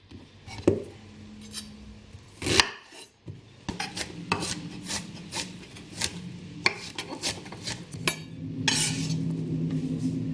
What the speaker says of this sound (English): Next, we're going to chop the courgette.